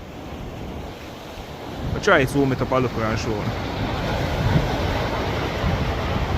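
Heavy surf pounds a St. Mary coastline during Hurricane Melissa, a steady roar of waves with wind buffeting the microphone, and someone speaks briefly over it near the start.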